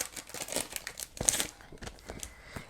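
A star foil bundle package in Lavender Hollow crinkles and rustles as it is handled, producing a series of close, uneven crackly bursts with a louder crumple near the middle.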